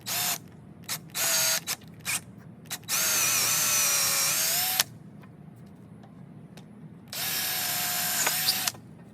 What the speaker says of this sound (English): The last step is to drill the hole for the halyard. Using 8mm, which is 5/16